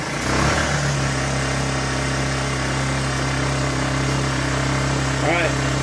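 Honda EU1000i inverter generator, freshly restarted after a year in storage, runs with a steady close engine drone and humming tones throughout, loud and continuous.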